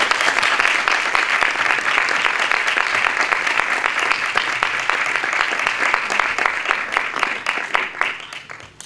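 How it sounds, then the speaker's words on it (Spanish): Audience applause at a fantasy film festival awards ceremony in Torremolinos, a sustained, loud wash of many hands clapping close by that fades slightly in the last second. "Miguel Pedraza, un aplauso por favor."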